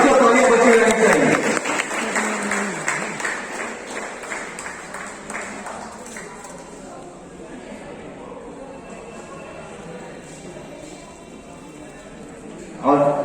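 Children clap together at a school prize distribution ceremony, a loud burst of applause that fades over several seconds into room murmur, with a short rise of noise at the end.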